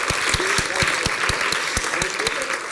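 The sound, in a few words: applause from audience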